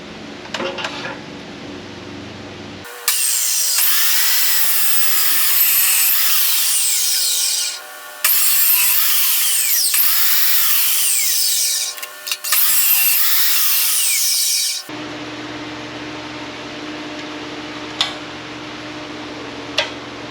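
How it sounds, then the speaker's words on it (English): A power tool cuts metal parts for a Firebird rear-end mock-up, running in long, loud, steady bursts that stop and restart twice, with a quieter shop hum in the gaps and at the start and end. "So let's get to cutting and welding."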